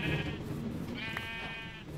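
Minecraft sheep bleating in a run of close, wavering calls, two stretched bleats and a shorter one between, layered over a steady low background rumble.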